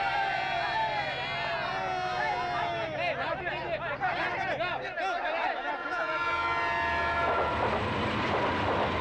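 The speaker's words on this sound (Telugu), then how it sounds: "5 నిమిషాల్లో ట్రైన్ కదలబోతోంది" A train at a station about to depart, with a busy mix of rumbling carriages and a long horn-like tone over crowd chatter and voices, loud and continuous.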